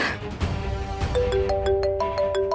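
A short electronic phone ringtone plays a rising series of bright beeping notes over a busy background of noise.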